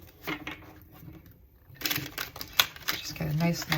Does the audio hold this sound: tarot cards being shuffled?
yes